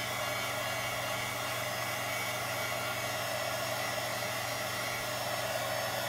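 A heat tool melting wax into paper for crafting gives a constant, close, even blowing hiss like a hair dryer, unchanging throughout with no voices.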